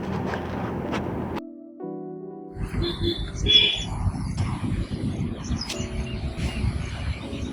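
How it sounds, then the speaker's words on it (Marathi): Birds chirp faintly in a quiet countryside, a few high, thin calls scattered over a steady hush of background noise after a brief burst of other sound at the start. "फक्त येत होता तो पक्ष्यांचा आवाज"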